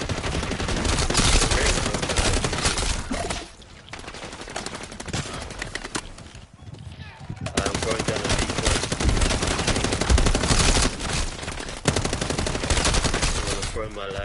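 Heavy automatic gunfire from a Modern Warfare 3 Zombies match, with loud sustained bursts, a short lull around four to seven seconds and a brief gap near twelve seconds.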